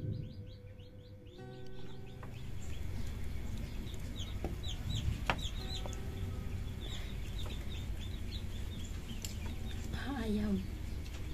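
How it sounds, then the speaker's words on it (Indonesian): Chickens cluck and chirp steadily in the background of an outdoor village cooking scene, with birdsong and occasional clatter mixed in, moderately near throughout. "Ayam."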